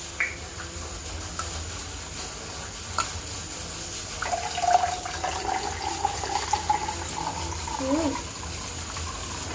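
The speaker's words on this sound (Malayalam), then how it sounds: "ഇനി ഇത് നമുക്ക് വെള്ളം ഒഴിക്കാം" Water is poured into a container while making lemon juice, a faint trickle and splash that swells midway, with people talking quietly underneath.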